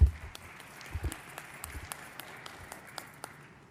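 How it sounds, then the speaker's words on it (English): Conference audience applauding, a scattered, moderately distant patter of claps with a few louder thumps near the start, steady and thinning slightly. "You have clapped your hands"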